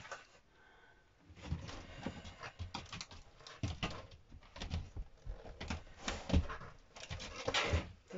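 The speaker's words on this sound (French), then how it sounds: "Ça, c'est le chien qui a envie de sortir." A dog whimpers and whines restlessly nearby with snuffling and panting in between, soft cooing-like whines repeating over several seconds.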